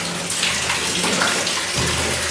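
Water splashes and sloshes continuously at close range, loud and unbroken, inside an old wooden barrel in an abandoned gold mine.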